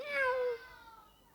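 A single cat meow, close and clear, rising then falling over about half a second before trailing into quiet.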